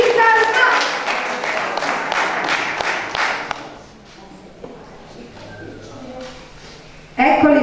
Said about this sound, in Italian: apriamo ancora con un forte applauso, fate sentire le vostre mani